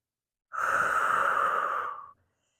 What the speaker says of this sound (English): just kind of focus on breathing nice and deep